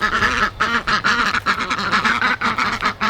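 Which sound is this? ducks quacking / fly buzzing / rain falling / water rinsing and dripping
ducks quacking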